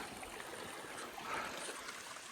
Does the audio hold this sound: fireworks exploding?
no